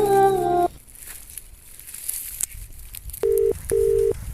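Telephone line tones sound while a call is placed: a steady buzzing tone cuts off, then after a quiet pause two loud, close pulses of a ringing tone follow.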